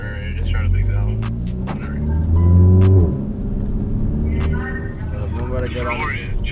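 A VW GTI Mk7 fitted with a new downpipe accelerates hard, engine rising in pitch through the gears with a brief shift dip, loud and close from inside, under a few short bits of talk.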